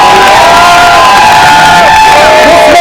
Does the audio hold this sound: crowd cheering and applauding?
yes